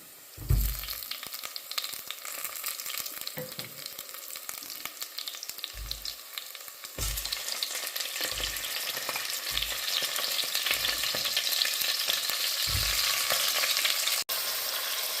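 Crab frying in a pan with golden sautéed onions gives a loud, steady sizzle that grows slightly denser midway, broken by low thuds and scrapes of stirring, with no one talking.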